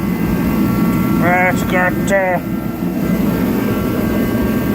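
A Stihl HS81T hedge trimmer's small engine runs at a steady idle, a loud, continuous drone close by, with someone briefly talking over it.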